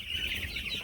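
Broiler chicks on a village poultry farm cluck and chirp in a dense, steady chorus, close and fairly loud, with no voices.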